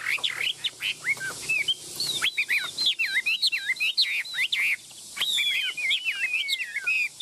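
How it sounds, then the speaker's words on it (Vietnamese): A tame caged songbird with yellow legs, about three years in the cage, chirps and sings in quick bright repeated phrases, close and clear, with brief pauses between bursts. "Em chim này thì khoảng 3 năm lồng"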